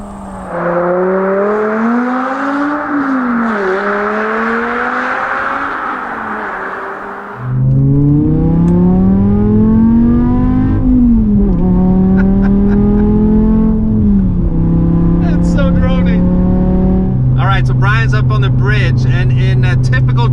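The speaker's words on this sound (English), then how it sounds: "we're gonna do a proper flyby or fly under, whatever you want to call it. This time it's in the V10 M5." A straight-piped BMW E60 M5 V10 rips past in a loud, close flyby, its engine note rising and falling through several gear changes, with a raspy high-rev howl and burbling pops near the end.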